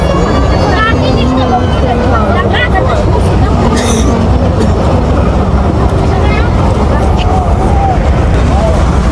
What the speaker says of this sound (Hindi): लोकोमोटिव दोबारा से स्पीड पकड़ते हुए